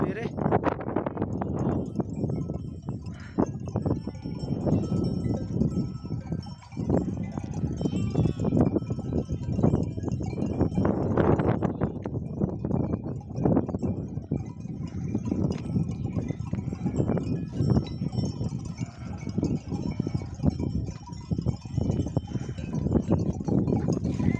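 A flock of sheep moving uphill on a rainy morning, scattered bleats and clanking bells over shuffling hooves, with someone talking close by throughout.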